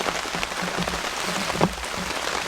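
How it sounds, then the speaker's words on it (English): Rain patters steadily on a blue tarp shelter at a woodland campsite, a dense, even hiss of drops with a few louder taps, alone and fairly close. "if you haven't noticed, it's raining"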